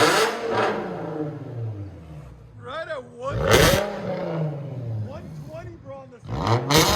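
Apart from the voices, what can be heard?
2008 Infiniti G35x 3.5L V6 revving with straight-pipe dual exhaust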